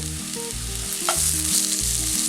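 Sliced onions for roasted chicken curry sautéing in a pan until browned, a steady close sizzle and hiss running throughout with a brief stirring scrape midway, no voices.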